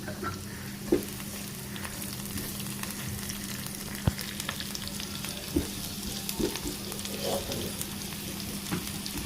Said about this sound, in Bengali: তেলটাকে ভালো করে গরম করে এগুলোকে ভালোভাবে ভেজে নিতে হবে